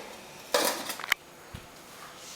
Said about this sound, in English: I need to put a lid on it